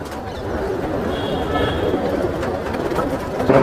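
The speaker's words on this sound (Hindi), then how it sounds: "ये है आरिफ भाई के टेडी कबूतर" Teddy pigeons coo softly at a pigeon loft in Mumbai, low murmuring coos under someone talking and background noise.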